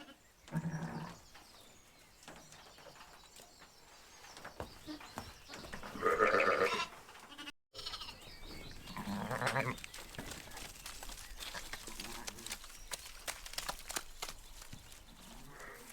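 Sheep and newborn lambs bleat on a farm, several calls of varying pitch, with a louder cluster of bleats near the middle and softer ones scattered around them.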